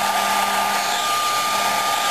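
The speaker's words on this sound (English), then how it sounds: "we're going to put it on low, and we're going to dry it with a hair dryer." A hair dryer blows with a constant whirring hiss, steady and close throughout with no change in pitch.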